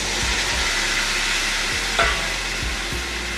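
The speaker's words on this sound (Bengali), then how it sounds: "প্রথমে এই মশলা ধোয়া জলটা দিয়ে দিচ্ছি।" Spice-rinse water goes into fried masala for a Bengali rohu fish curry with potato and pointed gourd, setting off a steady loud sizzle, with a few dull spoon clinks against the pan.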